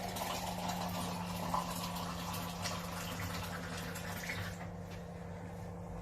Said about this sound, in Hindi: अभी मैं इसमें थोड़ा और पानी ऐड कर रही हूँ।